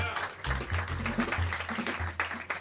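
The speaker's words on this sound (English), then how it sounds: "Help me welcome them to the stage with some warm applause" Audience applause in a small New York jazz club as the band is welcomed to the stage, steady clapping with some crowd voices and low rumble mixed in throughout.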